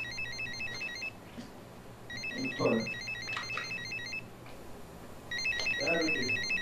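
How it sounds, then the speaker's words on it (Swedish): A mobile phone ringtone repeats three times in short melodic bursts, with people talking between the rings. "Jag ringer, hans telefon ringer."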